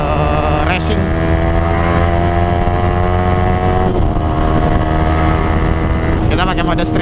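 A Yamaha R15V3 with a Ronin Hanzo exhaust in racing mode is ridden down a straight. The engine drones loudly and continuously, its pitch swelling near the start and again toward the end, with wind buffeting the microphone.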